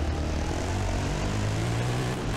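Steady, loud rotor-and-engine drone from a helicopter in the rally racing game Dakar Desert Rally, flying over a mountain desert stage, continuous and close without any talk.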